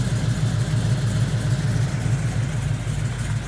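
A carbureted car engine with reworked fuel delivery and a new fuel regulator runs steadily at idle, a loud, even low rumble with a slight throb and no voices.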